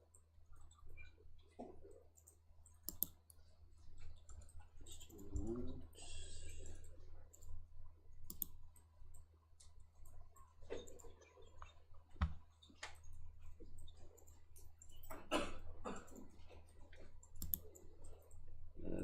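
Computer mouse clicks, scattered and sharp, sound at moderate volume over a faint background hum while the user navigates an OpenStack cloud dashboard, with occasional soft handling noises.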